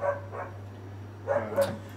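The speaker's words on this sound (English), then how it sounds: "Feed these dogs and shut them the hell up." A dog gives a few sharp barks and yips in short bursts over a steady low hum, with a quieter stretch between the early and later barks.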